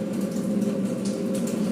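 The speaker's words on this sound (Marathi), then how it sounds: "बॉटल भर पाणी येतंय ते दाबल्यावर." Water from a newly installed purifier runs in a steady, continuous stream into a bottle, a close, even gush with a low hum beneath it.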